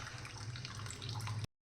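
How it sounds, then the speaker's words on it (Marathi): Water poured off boiled dal, a close, steady gurgling stream into a sink or vessel lasting about a second and a half before stopping abruptly, heard alone. "असं व्यवस्थित सर्व पाणी काढून घ्यायचे."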